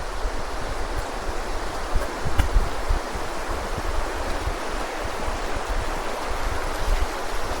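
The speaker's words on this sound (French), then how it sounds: "La source de ce ruisseau va jusqu'au pas de l'aiguille, donc moi, ce sera une ascension musicale au bruit de l'eau" A mountain stream runs through snowy Vercors terrain, its water rushing in a steady, close, continuous wash with no other sounds.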